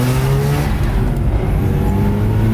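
A Mazda RX-8 rotary with upgraded ignition coils under way on a test drive, its engine droning loud and steady with harmonic tones rising and shifting as it pulls, heard from inside the car with no talking.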